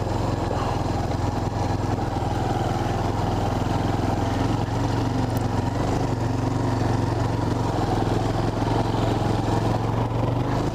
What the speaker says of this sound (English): This little quad is pretty cool.